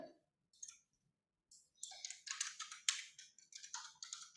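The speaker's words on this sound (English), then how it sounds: "The moment I start typing" Rapid, uneven clicking of computer keyboard keys in bursts, close and fairly quiet, with short pauses between runs of keystrokes and no talking.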